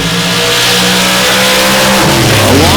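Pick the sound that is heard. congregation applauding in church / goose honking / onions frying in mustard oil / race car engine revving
race car engine revving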